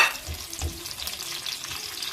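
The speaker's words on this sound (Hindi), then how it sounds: "ये जी प्याज डालेंगे और इसको करेंगे जी अच्छी तरह से फ्राई, गोल्डन करना है इसको हमने" Chopped onions frying in hot oil in a pan for a dhaba-style white mash dal, a dense close sizzle with stirring scrapes, steady and fairly loud, no voices.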